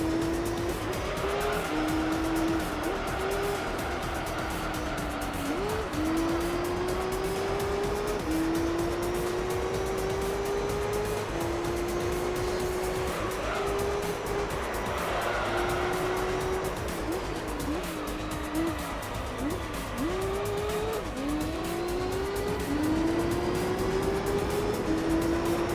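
Enzo GTR racing in Gran Turismo 3, a steady high engine whine that dips at each gear shift, with intermittent tire squeals through corners, continuous and without talk.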